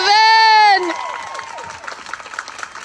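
At a Black Lives Matter school program, a long loud vocal cheer breaks off into an audience clapping for a young poet, the applause scattered and moderate, with crowd voices mixed in.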